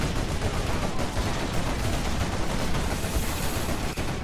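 Quad cannons in the Rise of the Reds strategy game fire in a dense, continuous barrage of rapid automatic gunfire, loud and sustained throughout with no pauses.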